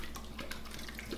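Tap water runs steadily over a beer glass as it is rinsed at a sink, a soft continuous splashing with faint clinks, alone without talk.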